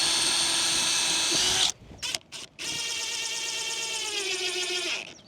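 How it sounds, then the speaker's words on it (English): A power drill whirs loudly for a couple of seconds, then stutters in short bursts before a long, steady high-pitched spin that winds down, pre-drilling and driving screws into wood. "I'm going to pre-drill and screw that in."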